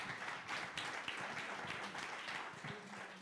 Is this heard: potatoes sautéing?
no